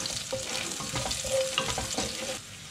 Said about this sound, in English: We're going to wait for that garlic to fry and turn brown.